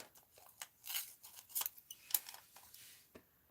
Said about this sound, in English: I didn't finish cutting these out.